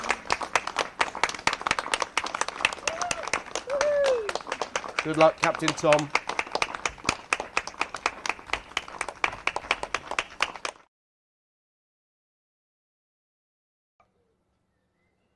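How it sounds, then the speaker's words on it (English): A guard of honour applauds war hero Captain Tom Moore, nearly 100, completing his 100th lap of his garden, with dense, steady clapping for about eleven seconds while a voice calls out over it, then abrupt silence. "Let's give him a big round of applause."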